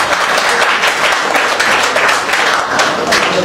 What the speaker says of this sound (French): est-ce qu'on peut applaudir très fort pour Jackie King